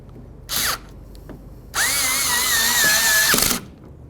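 Power drill snugging down bolts on a 2008–2012 Jeep Liberty window regulator: a short whir, then a longer steady run with a rising-and-falling motor whine lasting nearly two seconds, close and loud.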